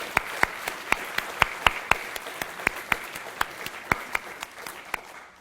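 Scattered applause at the Toorcon 2007 security conference: a small number of sharp, distinct hand claps ring out at an irregular, fairly quick pace over about five seconds, clear against a quiet room.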